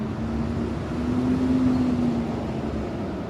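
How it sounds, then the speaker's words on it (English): Morning street traffic on a New York City walk toward the Upper West Side: a continuous low rumble of cars and buses, with an engine hum rising and falling slightly at moderate distance. "Some street noise, car noise, bus noise."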